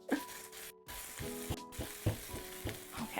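Onions cook in a pot with a soft continuous sizzle, broken by repeated clinks and scrapes of stirring at close range, with no voices.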